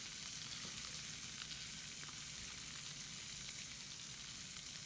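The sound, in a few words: AI-generated fire sound effect from Kling AI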